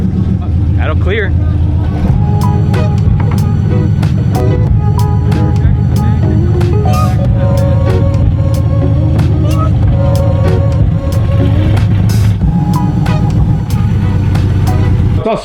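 A Nissan R32 Skyline drift car idles loudly and close by in a garage, its engine note rough and continuous with small revs throughout, under steady chatter from people nearby.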